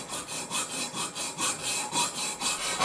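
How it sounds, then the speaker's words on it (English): Hand saw cutting a short piece of steel pipe for a catamaran mast foot, brisk rhythmic back-and-forth rasping strokes, about six close strokes with no talk. "I prepare to cut a piece of a steel pipe"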